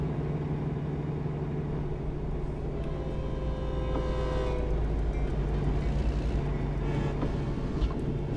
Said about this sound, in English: Oh, there's a train, cool.